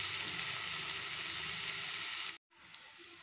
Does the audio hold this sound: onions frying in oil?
yes